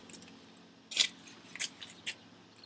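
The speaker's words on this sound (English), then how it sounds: "to find the node you have to cut the stalk in half at the bottom" A corn stalk is cut in half at its base, giving a few crisp snipping crunches, the clearest one near the start. It sounds close but faint against a quiet background.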